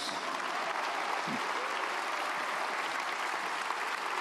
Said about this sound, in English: Jazz, yeah, come on, give it that applause.